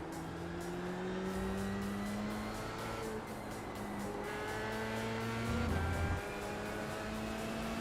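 Formula 3 race car at Spa in iRacing, its engine whining up through the gears on an out lap with rising and falling pitch sweeps, shifts and a brief lift, loud and alone.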